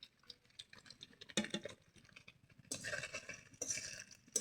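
A lid is set onto a cooking pot with a few soft metallic clinks and taps, quiet and close, amid light kitchen handling noises.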